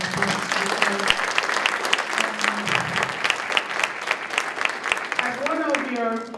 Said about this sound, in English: I would like to thank our student panelists. Please give them a round of applause.